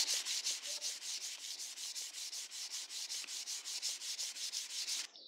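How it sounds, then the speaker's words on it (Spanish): Sandpaper rubbing over a PVC pipe, rapid regular back-and-forth strokes, close and steady, about four per second, ending abruptly. "Apenas voy a lijar para que se adhiera a la pintura."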